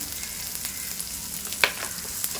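Onions softening in a pan for a bhaji, a soft, steady frying sizzle with faint occasional clicks, quiet and close.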